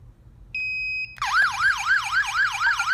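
An X10 outdoor wireless big strobe siren beeps with a short steady tone, then bursts into a loud warbling alarm wail that rises and falls continuously at close range.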